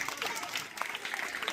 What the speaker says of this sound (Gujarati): યાર તો એના માટે તાળીઓ પાડી દો યાર